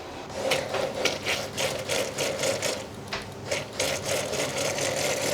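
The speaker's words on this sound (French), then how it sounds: "Et on va mixer le tout en purée." A blender motor purées cooked lentils with a little water into a smooth emulsion, whirring steadily and close with a rhythmic pulsing churn throughout.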